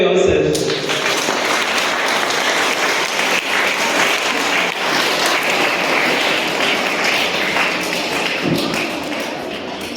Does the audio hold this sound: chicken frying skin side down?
no